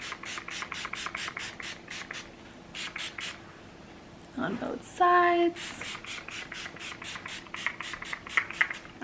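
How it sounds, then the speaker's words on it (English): Ouai wave spray mists onto hair in a run of quick, rhythmic spritzes, then a pause, a brief rustle and a few more close bursts, with a short spoken phrase in between. "Now I'm gonna spray some more of that wave spray"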